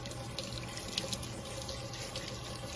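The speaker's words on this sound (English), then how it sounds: "Rinse it off." Running tap water splashes steadily as a Dash mini waffle maker is rinsed under a faucet, a soft, constant gushing wash at moderate distance with no voices.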